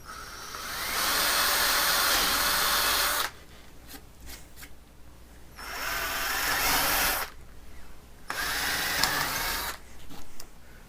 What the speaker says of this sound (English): try as best you can to hold this drill bit straight up and down as possible